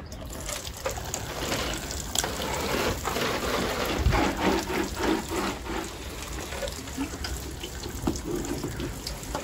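Water pours steadily from a watering can fitted with a rose onto young plug plants, giving a continuous close splashing shower with small fluctuations and no talk.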